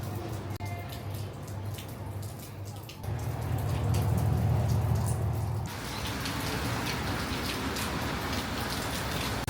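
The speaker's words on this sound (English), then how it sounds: "And the rain actually getting stronger and stronger." Heavy rain on a rainy day in Australia, a dense steady patter that swells louder partway through and stays strong, heard from nearby with a low rumbling undertone.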